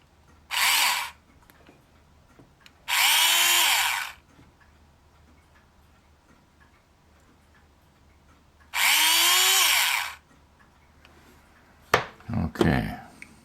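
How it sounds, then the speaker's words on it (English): Power drill enlarging holes in a model ship part, three loud steady bursts of a couple of seconds each with quiet gaps, followed by a few close clunks of handling. "I'm going to drill them out and just enlarge them"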